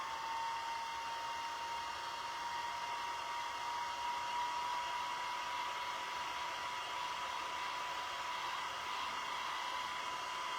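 A hair dryer blows steadily on a stencil on a mug, a constant close whirring hiss with a thin steady whine, running alone without talk.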